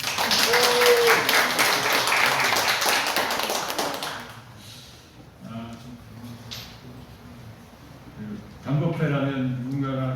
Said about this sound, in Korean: 박수 좀 한번 보내주세요